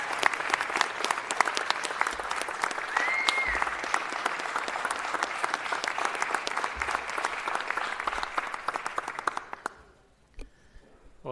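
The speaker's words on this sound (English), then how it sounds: "let's give a big round of applause" A crowd at a city council meeting applauds in a sustained, dense burst of clapping lasting about nine seconds before trailing off into a few scattered claps.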